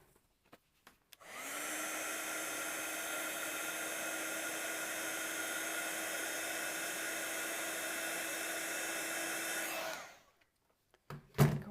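A heat tool blows hot air to melt Golden Glow Wow embossing powder on a Christmas card, giving a steady, loud whooshing hum that runs for about nine seconds before switching off, with a few light taps around it.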